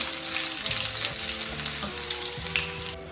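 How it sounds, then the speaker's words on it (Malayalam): Ginger, garlic and curry leaves fry in hot oil in a pan with a steady, dense crackling sizzle, close and continuous, with occasional stirring. "ഇഞ്ചി വെളുത്തുള്ളി കറിവേപ്പിലയും കൂടി ചെറുതായിട്ട് മൂത്ത് വരുമ്പോൾ"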